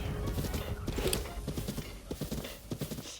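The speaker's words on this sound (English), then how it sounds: "I'm gonna run you over with a horse." Horse hooves clip-clopping in Zelda: Breath of the Wild, a rapid, rhythmic run of close hoof beats with a brief whinny, fairly quiet and steady throughout.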